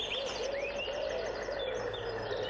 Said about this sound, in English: you can hear all the birds singing